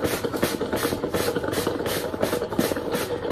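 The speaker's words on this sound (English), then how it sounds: "brush it, really vigorously with some steam, counterclockwise, and just condition the felt" A handheld steamer works over a felt hat while it is brushed vigorously counterclockwise, giving a continuous close hiss broken by regular, rhythmic rubbing strokes.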